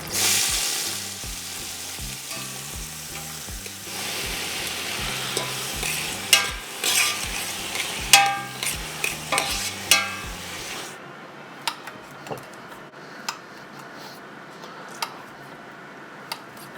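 Onions and spices frying in a pot where sausages were just cooked for Réunion-style rougail saucisse, a steady loud sizzle with stirring clatter and spoon ticks, settling into a quieter hiss with sparse crackles.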